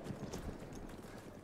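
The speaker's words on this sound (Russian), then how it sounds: "кто-то приехал на лошадке, я так понимаю" Horse hooves clip-clop in the video game Battlefield 1, a dense run of soft, muffled thuds at moderate distance under a steady game-noise bed, with no voices.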